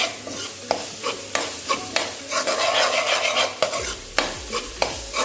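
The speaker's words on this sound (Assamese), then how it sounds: "আকৌ আগৰ নিচিনাকৈ 2 মিনিটমান লৰালে আমাৰ এইটো হৈ যাব" Besan flour stirred with milk in a pan, heard close as a steady scraping and sizzling with repeated spoon knocks against the pan.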